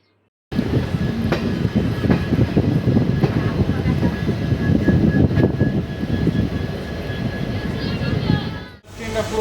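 A Malda Court to Siliguri DEMU passenger train rolls into Siliguri Junction, a loud steady rumble of wheels and engine heard close from on board, fading into a brief dip near the end.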